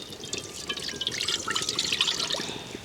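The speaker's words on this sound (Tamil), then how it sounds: "தண்ணி விடுங்க" Water poured into a pan to make sugar syrup, a steady splashing trickle lasting a few seconds, close by and alone without any talk.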